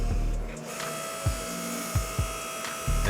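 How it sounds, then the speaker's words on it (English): A small 5-ton log splitter press squeezes heated leaf spring steel in repeated passes, with several sharp clanks and thumps over a steady mechanical drone. "Using the little 5-ton press, it took me about 3 passes to thin the steel out to that 1/4 inch."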